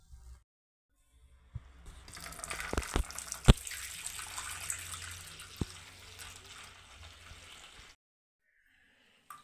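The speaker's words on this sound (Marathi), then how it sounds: "तर आता हे पाणी आपल्याला काढून टाकायचं आहे।" Water from soaked wheat being drained off, a steady close splashing pour with a few sharp knocks and clinks, stopping abruptly near the end, during preparation of traditional wheat kurdai.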